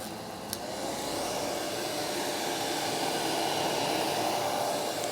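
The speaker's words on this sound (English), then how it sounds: "I have a little dryer here because we want to put one more coat." A small hand-held dryer blowing air to speed-dry a coat of gesso on a canvas, a loud, steady whooshing roar that starts abruptly and holds constant, close to the microphone, with no speech.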